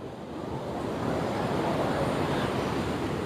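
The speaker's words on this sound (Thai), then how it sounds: "ชายหาดขาวๆ คลื่นสูงมากค่ะ" High surf about one and a half metres tall breaks on a white-sand beach in Phuket, a loud, continuous roar of crashing waves with some wind noise and no talking.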